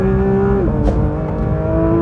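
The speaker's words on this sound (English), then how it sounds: "I can't get over how smooth those PDK shifts are" A 2022 Porsche 911 GT3 with PDK gearbox screams on track, its engine note dropping sharply at a quick, smooth gear shift before climbing again; loud and close inside the car, with no voices.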